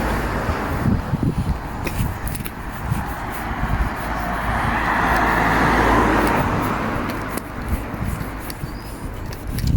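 A route 122 bus and other traffic pass along a busy street on the 356 route between Shirley and Upper Sydenham, a broad roar swelling and fading mid-clip amid steady road noise and wind rumble.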